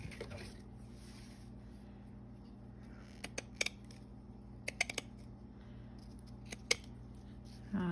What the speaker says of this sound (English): every time I cut into this very vintage lace, it just kind of hurts my heart a little bit